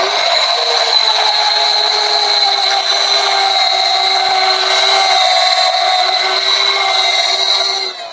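A corded right-angle drill sanding a turned wooden bowl runs with a steady high motor whine and the constant scratch of abrasive on wood, loud and close, without pause.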